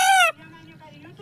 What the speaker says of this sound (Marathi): अण्णा या नावाने हाक मारणारा कोंबडा पाहिला आहे का?